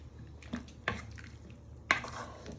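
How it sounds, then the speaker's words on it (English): Hot and sour soup is stirred in a pan, with a few soft spoon scrapes and knocks against the pan over a low simmering background. No one speaks. "to stir that in to your pan."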